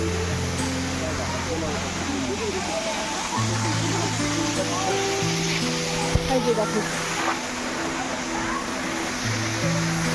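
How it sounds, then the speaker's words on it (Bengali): A waterfall on the road to Lachung in North Sikkim gives a steady, broad roar of rushing water for the whole stretch while people talk over it nearby. "ঝর্ণাটা অনেক দূর থেকে শুরু হয়েছে"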